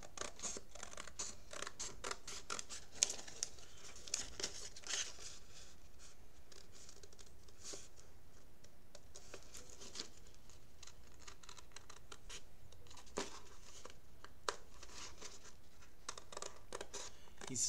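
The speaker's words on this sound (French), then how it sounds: "On peut tout simplement donc prendre nos ciseaux et découper donc tout le contour." Scissors snip around the outline of a paper shape, with close, crisp cuts arriving in irregular bursts and short pauses between them, while soft rustling of the sheet continues underneath.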